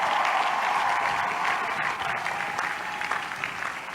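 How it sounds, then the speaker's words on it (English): A University of Houston commencement crowd of parents, families and students claps in sustained applause, a steady dense wash of hand claps that slowly thins without anyone speaking over it. "Let's give the parents and the families a big hand of applause."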